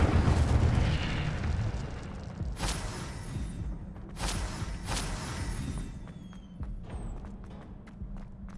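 An Incendio fire spell cast in the Hogwarts Legacy video game bursts with a heavy rumbling whoosh, followed by a few sharp cracks and a fading crackle, with no speech.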